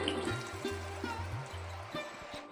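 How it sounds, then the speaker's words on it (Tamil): Water is poured into a pan of chicken masala, a soft steady trickle and splash, with faint low humming and clinks in the background. "சிக்கன் மசாலாவுக்கு தேவையான தண்ணி சேர்க்க போகிறோம்."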